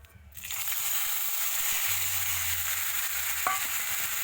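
A paste of ginger, cumin, dried chilli and tomato fries in oil for a tilapia curry, giving a steady, moderately quiet sizzle after a short start, with a soft stirring scrape and a faint clink partway through.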